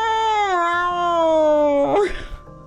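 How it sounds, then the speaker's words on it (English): A cartoon cat in the game Calico lets out one long, loud, drawn-out meow, followed by brief shuffling noise. "He is not a happy kitty."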